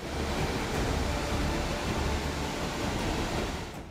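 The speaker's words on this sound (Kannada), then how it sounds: "ಡ್ಯಾಂನ ಎಲ್ಲ ಒಂಬತ್ತು ಕ್ರಸ್ಟ್ ಗೇಟ್ಗಳಿಂದ ನೀರು ಹೊರಬಿಡಲಾಗ್ತಿದೆ" A steady, loud roar of water pours through all nine crest gates of the Linganamakki dam in Shivamogga, a dense, unbroken rushing wash with no voices.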